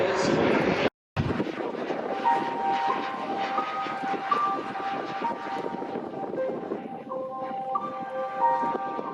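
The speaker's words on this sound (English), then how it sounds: "2 jet engines on his FoxJet Sailplane that allow him to not only launch his aircraft at amazing high speed, low-level aerobatics" A FoxJet sailplane fitted with two jet engines flies at an airshow, giving a continuous, fairly distant whooshing jet roar with whining tones that shift in pitch as it passes, under a public-address announcer.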